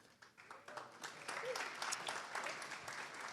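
Seminar audience breaking into applause, a steady wash of many hands clapping that builds over a few seconds, moderately distant.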